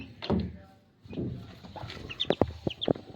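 A newly bought rooster clucks in several short, sharp bursts close by, with a couple of louder calls near the end and no talk over them.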